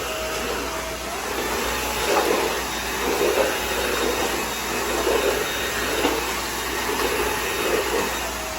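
A eufy Mach V1 Ultra cordless steam mop-vacuum in regular mopping mode hums steadily up close, with a high motor whine and soft rhythmic pulses as it is pushed back and forth.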